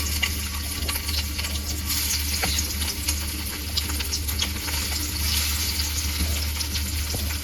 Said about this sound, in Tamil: கொஞ்சம் கொஞ்சமாக போட்டு பொரிச்சு ஃபிஷ்ஷை பொரிச்சு எடுக்கலாம்.